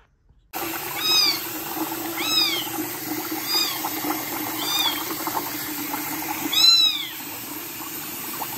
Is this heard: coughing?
no